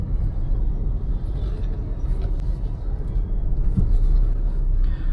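Steady engine rumble and road noise fill the scene as a car edges through heavy city traffic beside e-rickshaws, continuous and close, with a faint brake hiss and muffled surroundings.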